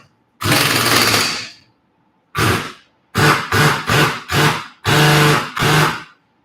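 An impact gun tightens brake bolts on a Mercedes-Benz: one long, loud rattling burst, then a pause and a run of six short, close hammering bursts, up near the mic with nothing else heard.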